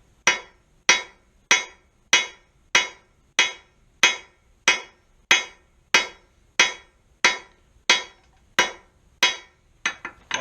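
Steady hammer blows ring out on metal, about fifteen evenly spaced sharp clanks with bright decaying tails, close and loud, with no talking.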